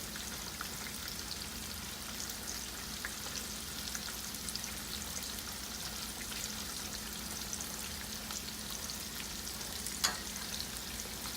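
Potatoes with onion and garlic frying in a pan for a Southern meal, giving a steady, dense sizzle that holds evenly throughout with faint crackles and one sharp pop near the end, no talking.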